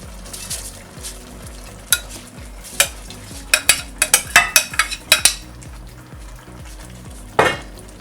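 Rice poured into a pot for Samarkand plov, with hot fat sizzling and crackling steadily and a series of sharp clinks and scrapes as a utensil stirs and spreads it, close and fairly quiet.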